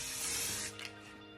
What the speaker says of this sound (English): I'm giving them a coat of copper spray paint.